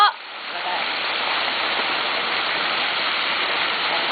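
Heavy rain pours down in an even, hissing wash that holds steady from start to end, close and loud, after a brief bump at the very beginning.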